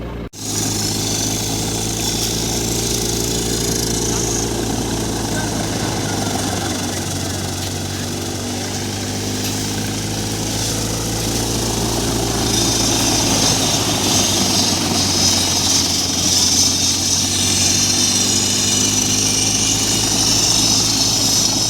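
A soybean thresher machine's large engine drones steadily and loudly for the whole stretch, with a constant low hum and mechanical whir, no voices.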